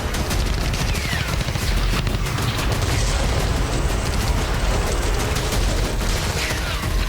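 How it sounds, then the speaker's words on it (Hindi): A dense barrage of loud blasts and booms from strikes on six Hezbollah sites in southern Lebanon overlaps continuously, with rumbling and crackling bursts in quick succession from a distance. "एक साथ हिज़्ब के 6 ठिकानों पर जबरदस्त ब्लास्ट होता है।"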